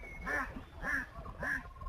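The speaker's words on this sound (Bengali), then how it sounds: "এই দেখুন হাঁসটা কোথা থেকে কোথায় আসছে আবার।" Duck quacking three times in an even rhythm, each call nasal and fairly close but not loud, with a dog nearby by the water and quiet outdoor background.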